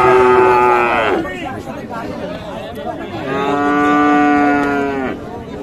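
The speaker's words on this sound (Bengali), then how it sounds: "একসঙ্গে 5টি গরু দেখছি আমরা।" Sahiwal bulls and calves at a livestock market give two long, loud, close moos separated by a short pause, over faint crowd chatter in the background.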